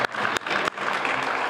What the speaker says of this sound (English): How about a round of applause for MassDevelopment?